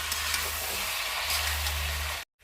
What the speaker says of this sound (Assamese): মই এনেকৈ লৰাই লৰাই 10 মিনিটমানৰ কাৰণে এনেকৈ ভাজি থাকিম।